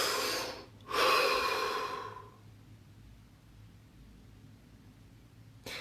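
One slow, deep breath taken close by: a soft airy inhale, a brief pause, then a longer, fuller exhale that trails off into near silence.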